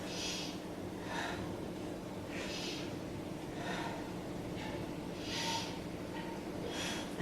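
A yoga student takes three slow breaths, soft airy inhales and exhales rising and falling in an even rhythm, close and quiet.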